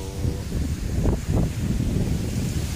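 Steady wind on an island blows and buffets against the microphone, a low rumbling roar with soft gusts and no talking.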